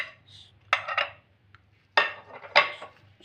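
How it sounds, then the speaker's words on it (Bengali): A spoon clatters and scrapes inside a bowl while soya chunks are tossed with salt, black pepper powder, ginger-garlic paste and red chili sauce: three short bursts of clinking and scraping separated by quiet pauses. "সয়ার সাথে সবগুলোকে ভালো করে আমি মিশিয়ে নেব।"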